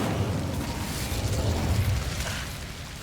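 Incendio fire spell cast in Hogwarts Legacy, a dense roaring whoosh of flame with a heavy low rumble that stays loud throughout and fades slightly at the end, with no talk.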